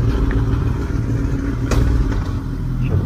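A motorcycle setting off on a highway ride, its steady engine drone and road rumble loud and continuous throughout, with a brief clatter partway through and no talking.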